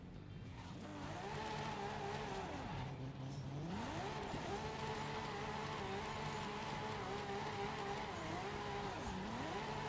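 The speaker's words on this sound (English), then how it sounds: "My car of choice for this is this one right here. Toyota Supra Mark IV." A Toyota Supra Mark IV drifts in Forza Horizon 5, its engine whining steadily at high revs with several dips and climbs in pitch as the throttle is lifted and reapplied.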